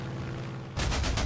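Artillery fire from the Panzer Corps 2 strategy game: a loud, sudden burst of booming shots that starts partway through and continues over a low, steady game soundtrack.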